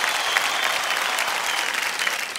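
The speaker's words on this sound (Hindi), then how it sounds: "एक बार फिर तालियों के साथ हम इनका स्वागत करते हैं" Applause from a studio audience on the KBC High Flyers quiz show stage as two veteran film industry performers are welcomed, a steady, even patter of many hands clapping throughout, slightly distant.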